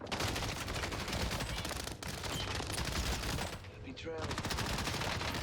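LAPA SMG hip fire in a first-person video game: dense, rapid automatic bursts of gunfire that are loud and nearly continuous, with a brief lull around the middle before shooting resumes.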